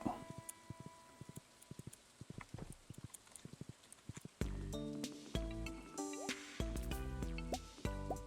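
Hollow, evenly spaced clip-clopping hoofbeats at a walking pace, joined halfway through by busier tonal game music and brief bursts of talk.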